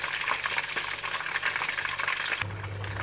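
Chicken pieces frying in oil until golden, a continuous close sizzle and crackle with a low steady hum coming in near the end and no voices.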